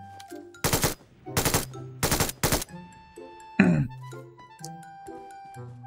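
Automatic gunfire in PUBG Mobile, four loud bursts of rapid shots in quick succession followed by a sharp impact and lighter in-game clinks and tones.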